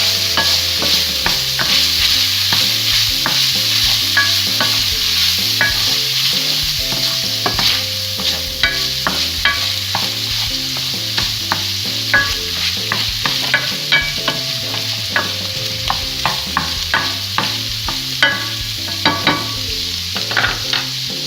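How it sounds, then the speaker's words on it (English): Ground beef seasoned with chili powder sizzles steadily in a frying pan for enchiladas, while a utensil scrapes and stirs in a continuous, rhythmic pattern, close and loud with no voices. "Gotta stir it all up and get all the flavors together."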